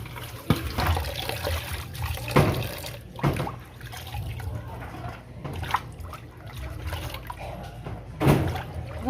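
Rice being rinsed by hand in water in a home kitchen, a steady wet sloshing and trickling with a few louder splashes and pours, close up, with no talk over it.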